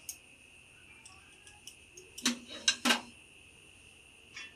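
A spoon stirs batter seasoned with a pinch of salt in a bowl, giving a few quiet clinks followed by a short cluster of sharper scraping knocks midway, then one last faint tap, with no talking.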